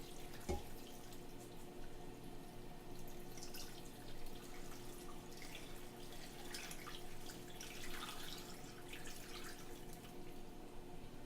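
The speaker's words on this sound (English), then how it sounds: "And now I'm just going to pour some water over it." Water poured into a crockpot over chicken pieces for homemade stock, a steady running splash with faint trickling and dripping, close and fairly soft throughout with no talking.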